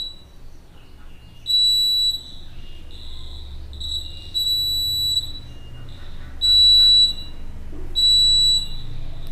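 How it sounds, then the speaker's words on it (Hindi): An obstacle-warning buzzer on a homemade pair of smart glasses for the blind sounds in repeated piercing high-pitched bursts, each lasting about a second, over a low background hum. "ये ऑटोमेटिक यहाँ पर अलार्म बजने लगेगा"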